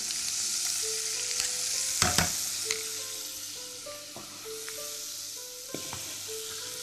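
Paris mushrooms and garlic fry in olive oil with butter, a constant close sizzle and crackle with a burst of sharper spattering partway through, under soft background musical notes.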